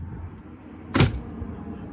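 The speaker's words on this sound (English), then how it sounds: "The door looks good. It's just so airtight. That's why it's doing that." The airtight door of a 2020 Evo 177 travel trailer shuts once with a short, sharp thud and rattle, close by in an otherwise quiet setting.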